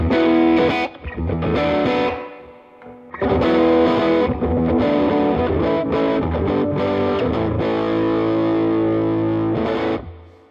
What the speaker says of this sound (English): As opposed to the parallel sound.